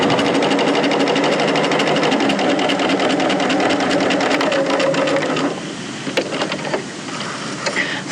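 A sewing machine runs fast and steady, stitching a continuous fabric strip opening up close, then stops after about five seconds, leaving a few quieter clicks and handling sounds.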